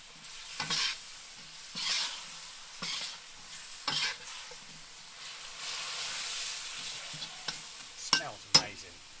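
Crispy beef frying in a wok on a Big Green Egg, with a soft steady sizzle broken by scraping stirs and clanks of the utensil against the wok.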